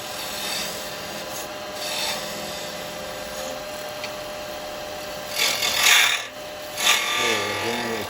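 A carbide chisel shapes the outside of a resin Christmas bell spinning on a wood lathe, giving a continuous close rasping scrape that swells louder in bursts toward the end.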